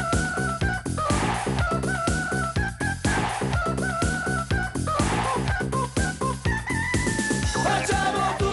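A singer imitates a rooster's crow over a loud, rhythmic pop song performed on a 1989 Italian TV music show, the crowing calls rising above the dense band backing.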